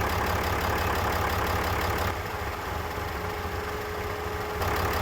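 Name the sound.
6.7L diesel engine idling after jump start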